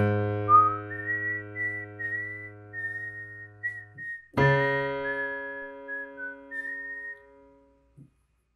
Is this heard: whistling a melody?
yes